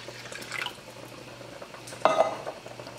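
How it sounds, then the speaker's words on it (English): About 15 ounces of water poured from an emptied sauce can into a cooking pan, heard as two short, close splashing gushes with quiet between them and no talking. "And so now I'm adding 15 ounces of water."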